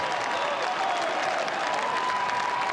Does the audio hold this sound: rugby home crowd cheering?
yes